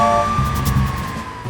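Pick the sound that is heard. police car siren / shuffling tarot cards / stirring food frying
police car siren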